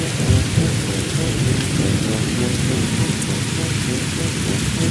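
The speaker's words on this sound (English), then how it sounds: "Pouring rain came down so hard that Monkey and the tractor couldn't react in time." Heavy rain pours down in a dense, steady roar during a storm, with deep thunder rumbling underneath, loud and continuous throughout.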